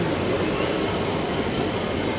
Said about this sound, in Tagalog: So ngayon naman, LRT train tayo